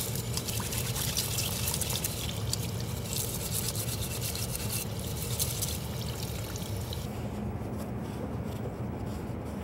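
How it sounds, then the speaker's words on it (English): Tap water runs steadily into a sink while sludge left from rust-removal electrolysis is scrubbed off a tool, a continuous close splashing rush with rubbing underneath that softens slightly near the end. "We will go ahead and take this over to the sink and get this scrubbed off even better here."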